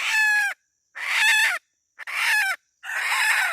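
A rooster crows loudly and close by, four strained calls in a row separated by short pauses, with no other voices.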